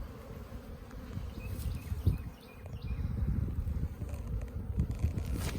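Worker bees crowd the front of a hive in spring, giving a faint, low, continuous buzzing hum with fluctuating intensity and some wind rumble on the microphone.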